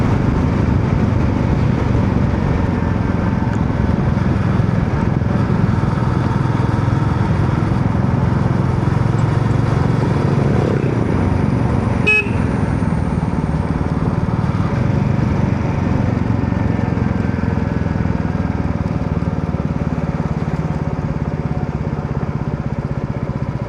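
Royal Enfield Meteor 350 motorcycle engine while riding on a scenic road, a steady low single-cylinder drone with wind rumble, continuous and close throughout with no talk.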